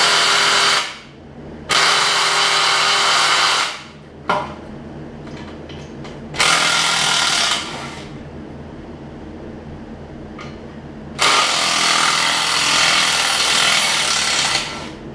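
Power tool driving bolts out of a John Deere 125 riding mower's engine during an engine swap, in several loud bursts of a few seconds each separated by brief quiet pauses.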